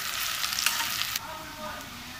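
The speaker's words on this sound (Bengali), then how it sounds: "পেঁয়াজটা কিন্তু পুরোপুরি ভাজা যাবে না, শুধু একটু ট্রান্সপারেন্ট হলেই চলবে" Onions frying in a pan until just translucent, a close, steady sizzle that briefly flares then settles slightly quieter, with no voices.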